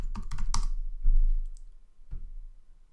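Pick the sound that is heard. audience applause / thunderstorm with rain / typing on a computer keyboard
typing on a computer keyboard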